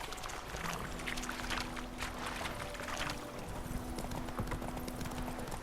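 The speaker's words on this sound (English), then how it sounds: "Get on the horse then." Horse hooves clip-clop in a steady rhythm during a ride in The Witcher 3, moderately close over a constant ambient bed, with a sustained tonal hum running underneath.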